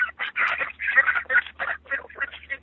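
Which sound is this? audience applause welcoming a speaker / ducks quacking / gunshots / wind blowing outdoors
ducks quacking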